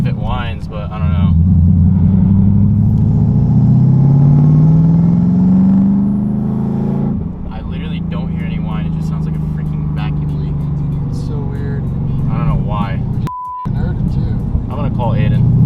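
Whipple supercharged Mustang GT with a Foster supercharger kit and whine mod out on a test drive, its engine rumbling steadily with a rising pitch as it accelerates and a brief cut near the end, while people talk over it.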